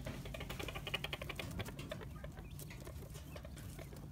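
Chickens give faint, odd chattering clucks and scratchy pattering calls, quiet and distant against a steady background rumble, with no voices over them.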